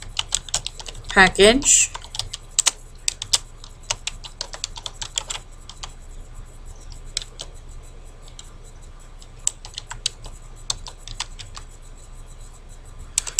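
Light, rapid clicks of typing on a computer keyboard continue in an irregular patter, fairly quiet, beneath a person speaking.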